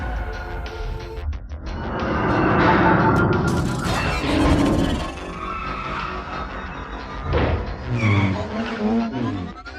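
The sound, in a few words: car drifting with tires skidding in a movie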